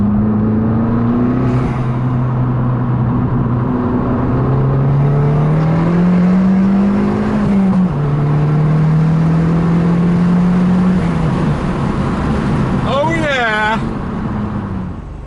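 Abarth 500 Accelerati, 250 BHP, fitted with a Power Motive valved exhaust, accelerating through gears with a loud rising engine note that steps down at each shift, plus a brief whine near the end and speech layered in.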